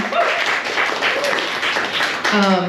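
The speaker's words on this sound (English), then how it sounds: "clap for him" Audience applause at a poetry reading series, a few seconds of clapping from a small crowd with speech running over it and a voice rising at the end.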